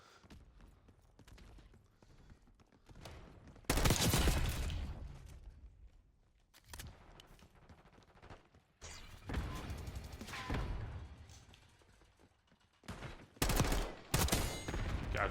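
Gunfire in the video game Call of Duty Black Ops 6, loud bursts of rapid automatic shots in several separate volleys between quieter stretches of game noise, no talk.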